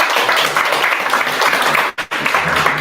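An audience claps steadily and loudly throughout, a dense wash of many hands with a brief dip near the end before the applause resumes at full strength.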